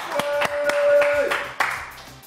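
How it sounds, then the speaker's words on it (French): Clapping from a studio audience welcoming a guest on a French TV talk show: a few sharp, spaced hand claps over a sustained tone and some voice, brief and fairly close. "Je vous demande d'applaudir Patrick Coutin."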